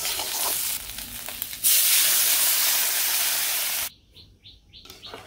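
Water poured onto frying meat in a pan sets off a loud hiss of steam that swells, holds for about two seconds and then cuts off. Faint bird chirps follow.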